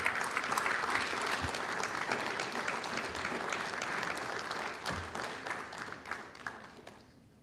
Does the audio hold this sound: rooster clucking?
no